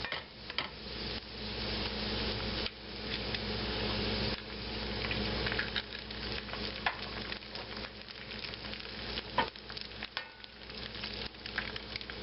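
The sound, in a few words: eggs frying in a pan for sheepherder breakfast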